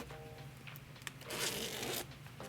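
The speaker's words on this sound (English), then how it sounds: "Now I can go ahead and pull the zippers forward." A zipper on a hoodie gets pulled in short, close rasping strokes, with a longer, louder zip near the end and no voices.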